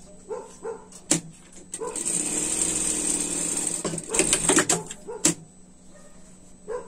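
A sewing machine stitches a seam on a small winter dress for a pet, a moderate mechanical whir running for a few seconds amid clicks and handling sounds, with brief sharp knocks near the end.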